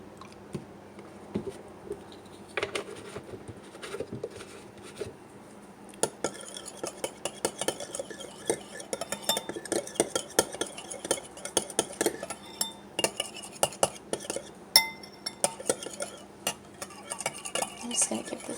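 A spoon stirring a homemade yogurt and milk face mask in a small bowl, quiet at first, then repeated close clinks and scrapes in an irregular rhythm, no talk.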